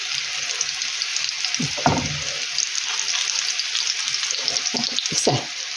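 Young potatoes fry in oil in a skillet, a loud, steady close sizzle with a few clicks and scrapes as a fork turns them; no talking.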